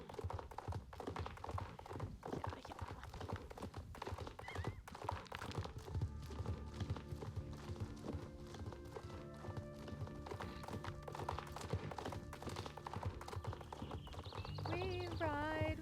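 Horse hooves galloping steadily across open ground in the video game Star Stable, a continuous rhythmic drumming at close range over background music, ending with a high whinny.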